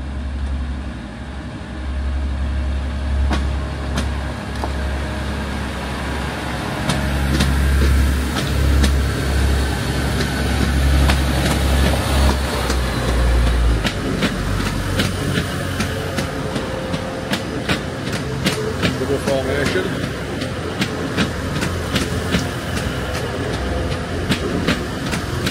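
Train 1A92 pulls into a station, its low rumble and clattering wheels steady for the first half before easing off, with rail clicks and ambient platform noise continuing after.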